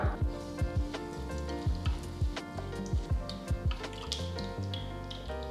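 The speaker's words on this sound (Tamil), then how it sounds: "கடுகு பொரிய ஆரம்பிச்சிருச்சு" Mustard seeds and cumin popping and spluttering in hot oil, rapid irregular crackles over a constant sizzle, close by.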